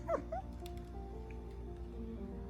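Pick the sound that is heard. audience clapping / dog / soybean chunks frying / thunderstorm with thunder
dog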